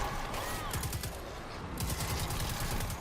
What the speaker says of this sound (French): Elle est bien cette mitrailleuse